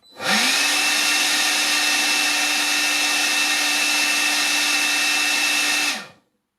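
A DeWalt cordless blower whirs up, holds a loud, steady motor whine with a constant high tone for several seconds, then cuts off abruptly and falls silent.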